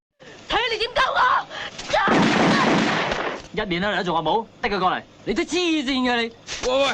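Gunshots in a film scene where a woman shoots herself: a long burst of noisy gunfire lands between stretches of people talking.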